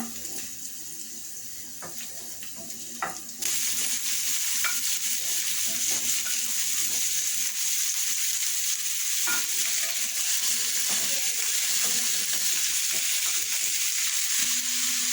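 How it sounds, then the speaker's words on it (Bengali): Chopped flat beans (shim) tipped into a pan and frying, with a few clinks and scrapes, then a steady, louder hiss of sizzling that carries on without pause; no voices. "এখন আমি সিমগুলি দিয়ে দিচ্ছি প্যানে।"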